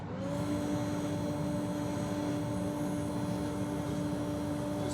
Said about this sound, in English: So dust extraction on.